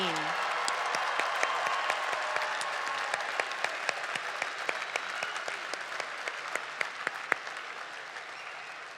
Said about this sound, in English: Let's keep up the applause for all of our new Grand Valley graduates this year, 2018.